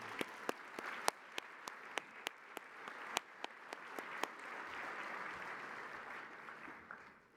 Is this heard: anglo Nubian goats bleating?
no